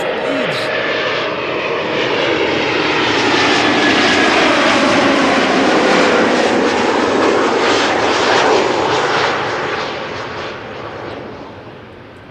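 A passenger aircraft arriving at Schiphol from Leeds roars loudly and close, its engine noise building to a broad peak then fading toward the end.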